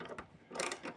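A few faint, short metallic clicks and ratcheting scrapes come from screws being unscrewed during a teardown, quiet and close with no speech.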